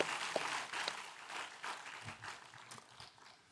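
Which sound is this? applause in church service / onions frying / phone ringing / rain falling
applause in church service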